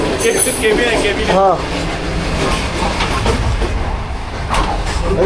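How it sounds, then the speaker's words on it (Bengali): A passenger train on the Lahore to Karachi line rumbles along the rails, heard loud and close from outside the cabin, with steady clatter and hiss under people talking. "বাইরে ট্রেনের সাউন্ড"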